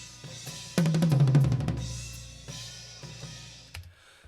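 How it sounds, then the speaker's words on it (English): Three toms, two rack and one floor, roll downward in pitch with several quick booming hits, then single tom strikes ring out amid spill from cymbals and other drums. "we've got 3 toms, we've got 2 racks and a floor"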